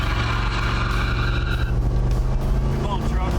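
A 1974 Ford F-100 pickup truck revs hard and accelerates during a 0 to 60 run, a loud, steady engine roar with rising tone throughout, with a voice briefly heard over it.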